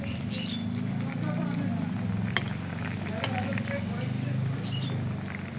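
A hilsa fish sour curry with toba lemon, cooked the village way in Medinipur, bubbles and sizzles steadily in the pot at a low, even level, with a few faint clinks now and then.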